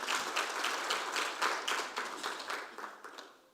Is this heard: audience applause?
yes